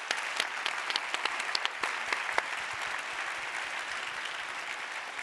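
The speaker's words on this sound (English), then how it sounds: "please give a round of applause for our panel here" Audience applause for a panel at a conference session, dense steady clapping from a sizable crowd, even and sustained throughout with no talking.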